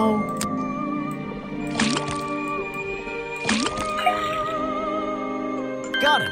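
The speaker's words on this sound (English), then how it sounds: "then tap the faucet" A tapped faucet in the Detective Grimoire video game lets out short splashy gushes of water, two main bursts over a sustained bed of soft game music, with no voices.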